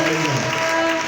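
Audience in a hall applauding leaders at a celebration for a new director, a brief burst of dense clapping with crowd noise and a voice over it.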